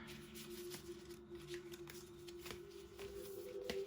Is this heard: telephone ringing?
no